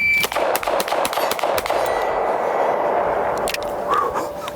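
A Henry Big Boy revolver fired rapidly in double action, a quick string of sharp loud shots with ringing metallic steel-target clangs and echoing tails, close to the listener.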